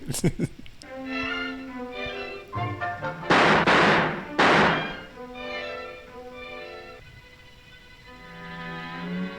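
Two loud bursts of gunfire crack out amid the soundtrack of the 1936 film Modern Times, with voices and sustained musical tones before and after.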